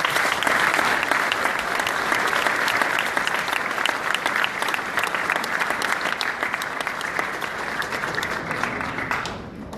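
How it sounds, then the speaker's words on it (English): Sustained audience applause for special guests at a planetarium announcement event, a dense steady wash of clapping that holds for nearly ten seconds before abruptly cutting off at the end. "So please give them a round of applause."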